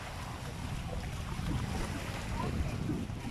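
Strong wind gusts across an open seashore at low tide, a steady loud roar of wind buffeting the microphone with surf-like rushing throughout, no voices.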